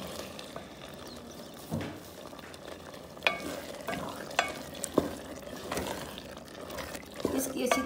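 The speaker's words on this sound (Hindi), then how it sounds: "इसकी अच्छी तरह से करेंगे भुनाई, फिर इसमें थोड़ा सा पानी डालेंगे।" Black chickpeas (kala chana) frying in ghee in a pan, stirred with a spoon: a steady soft sizzle runs throughout, with occasional louder scraping clatters of the stirring, close and moderately loud.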